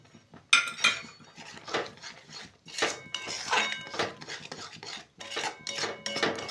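Khoa stirred with sugar in a pan, a spoon scraping and clinking against the metal in irregular bursts, close and fairly faint, with no talking.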